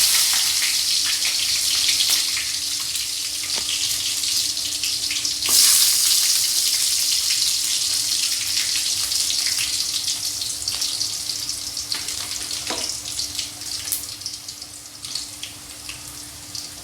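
Garlic and curry leaves frying in hot oil in a pan, a steady bright hiss and sizzle with occasional sharper crackles, continuous throughout and close by, with no talking.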